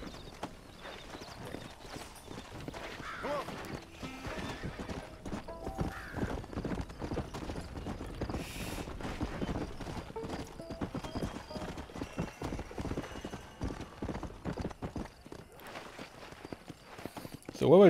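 Hooves clip-clop steadily along with a horse's whinny in the video game Red Dead Redemption, while people talk over the walking rhythm.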